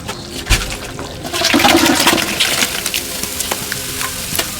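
Liquid pours out of a cooking pot with a rushing, splashing gush and some sizzling stir noise, close and fairly loud, lasting a few seconds, while a large fish dish is being cooked. No one talks.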